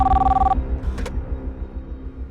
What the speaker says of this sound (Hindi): मैं संध्या की माँ को फोन करता हूँ।